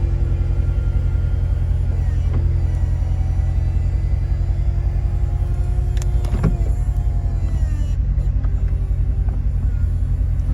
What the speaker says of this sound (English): Let me put up the top.